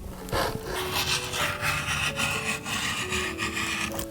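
Scissors trimming excess seam allowance from a bias strip stitched onto a linen chemise neckline, a steady close rasping snip-and-rub texture running continuously for a few seconds with no talk.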